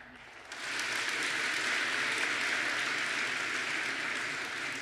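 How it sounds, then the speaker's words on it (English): Student delegates at a Wisconsin FBLA state leadership conference session clap for themselves, the applause swelling in after a brief quiet moment and then holding as a broad, steady wash of many hands in a large hall. "Give yourselves a round of applause."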